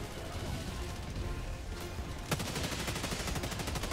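Rapid gunfire from a sickle weapon in a shooter video game, a dense steady stream of shots with a sharp crack partway through, loud and continuous with no talk.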